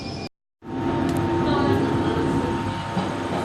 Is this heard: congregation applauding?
no